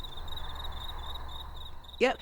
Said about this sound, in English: What you just heard, it was crickets in there.